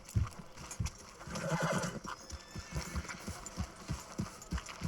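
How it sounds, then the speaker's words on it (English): Horse in the Red Dead Redemption 2 video game, a drawn-out neigh near the start over a steady run of clip-clopping hooves, close and clear with no talking. "Let's take the horse and ride."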